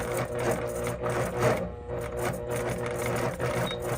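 A longarm quilting machine stitching while couching, its stitch regulator off and not at full speed, giving a steady dense mechanical whir with a short dip partway through.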